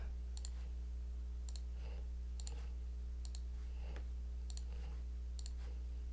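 Mouse clicks while placing building tiles in Game Maker Studio 2, a run of about six sharp, evenly spaced clicks over a steady electrical hum, with no talking.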